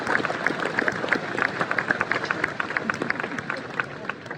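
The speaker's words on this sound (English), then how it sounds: "Give a big round of applause" Audience applause at a Bear Grylls "Never Give Up" tour show, a dense, steady patter of many hands clapping at once, filling the hall and holding for several seconds with crowd murmur underneath.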